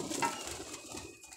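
Pigeons coo softly at a pigeon club in winter. The calls are faint and sit under a broad, noisy background.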